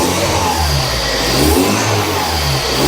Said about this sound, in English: I can hear the turbo out the exhaust.